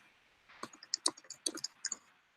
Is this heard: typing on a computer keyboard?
yes